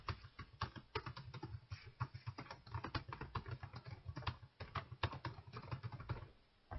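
Rapid typing on a computer keyboard, a continuous dense patter of close, crisp key clicks with uneven rhythm, tapering off slightly at the very end.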